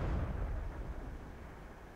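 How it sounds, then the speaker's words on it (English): A deep, rumbling artillery shell impact in World of Tanks booms low and heavy, then decays into a fading rumble. "you can do your best to jink and try to avoid the artillery, but probably you're going to get hit"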